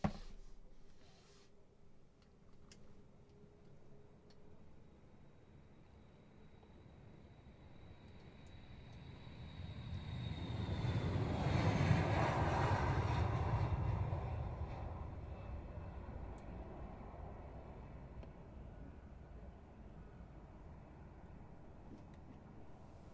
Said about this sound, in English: taking off right now, US Air Force RC-135V